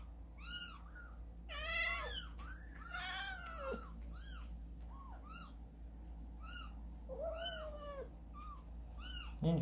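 A kitten mews again and again, giving high, thin meows in irregular bursts over a steady low background hum, fairly close by.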